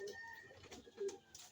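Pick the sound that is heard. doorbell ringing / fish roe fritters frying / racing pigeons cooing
racing pigeons cooing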